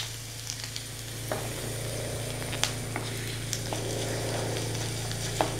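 Chillies fry in sesame oil with popped mustard seeds for lemon pickle: a steady, close sizzle with occasional sharp pops and stirring clicks throughout.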